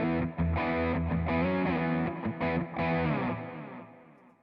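An electric guitar on its humbucker pickup, played through a Neural DSP Quad Cortex with distortion and effects, rings out in sustained, saturated chords that fade at the end.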